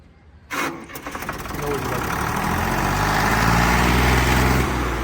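A Sonalika 745 tractor engine, on a new tractor, cranks briefly after a moment of quiet, catches with a sharp burst, then settles into a loud, steady diesel idle that builds slightly and holds close by.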